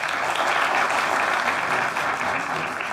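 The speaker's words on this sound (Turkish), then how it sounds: "Az önce Emre çıkınca alkışlayanlar bir daha alkışlayabilir mi?" An audience at a live comedy stage show applauds steadily for several seconds, a dense, even wash of many hands clapping without voices.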